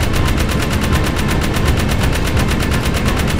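Rapid automatic gunfire in the video game Jak 3 while shooting metalheads: a loud, unbroken stream of evenly spaced shots close up, with no talking.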